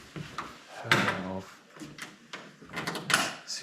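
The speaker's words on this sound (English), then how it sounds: "Secret door." A hidden wooden door in an old house in Georgia creaks and thuds open, with drawer-like wooden sliding and knocking sounds close by, mixed with people talking.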